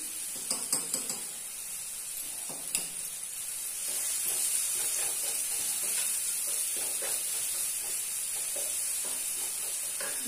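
Egg curry sizzles and fries in a pan as coriander is sautéed in it, a steady close hiss joined by a few light clinks and stirring scrapes near the start.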